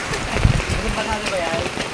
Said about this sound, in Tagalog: Biglang umulan, eh.